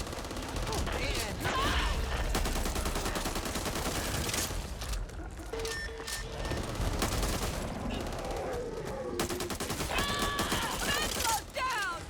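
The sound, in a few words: gunfire in the video game Back 4 Blood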